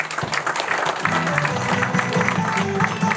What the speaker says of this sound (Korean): 사랑님 박수로 청해 듣겠습니다.